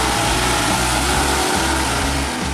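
A loud, steady engine drone from a tractor pulling a Lemken Crystal cultivator across a field, a continuous low rumble with a broad noisy roar on top, heard close with no speech.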